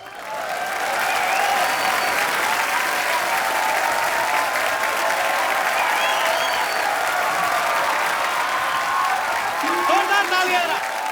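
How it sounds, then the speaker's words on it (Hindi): Studio audience of a Hindi comedy talk show applauding loudly and steadily as a superstar guest is welcomed, sustained clapping filling the whole stretch with some cheering mixed in. "आप सबकी जोरदार तालियों के बीच बुलाना चाहूंगा सुपरस्टार"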